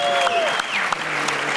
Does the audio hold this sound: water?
no